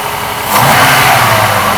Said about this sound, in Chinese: 我们来听一下那个 V8 的嘶吼